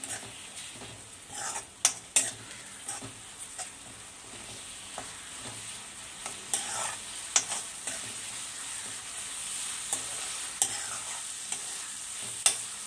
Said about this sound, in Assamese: মছলাখিনি আকৌ 2 মিনিটৰ কাৰণে এনেকৈ মজাই লওঁ